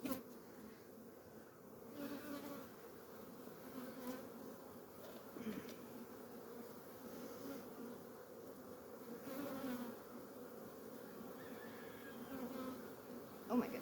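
Honey bees buzz steadily in an open hive during a nectar dearth, a dense, continuous drone close to the listener that swells and eases slightly without pause.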